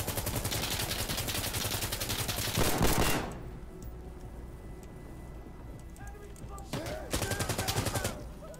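Rapid automatic gunfire in Insurgency Sandstorm, a dense stream of shots for about three seconds, then a pause and another short burst, with a voice speaking over the quieter stretch.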